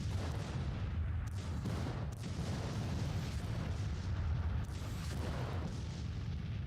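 Artillery in the Civil War strategy game Grand Tactician: The Civil War, heard as a steady, dense rumble of distant cannon fire with faint booms rolling under it throughout.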